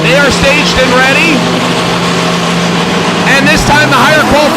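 Porsche 992 drag cars with ES1100 kits launch off the starting line at a drag race, a loud, continuous engine roar with revving surges and a fresh burst of power toward the end.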